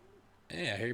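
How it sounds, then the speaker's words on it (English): Pigeons cooing in the video game Final Fantasy XVI, a loud, close burst of warbling bird calls that begins abruptly halfway through, preceded by quiet ambience. "I hear pigeons"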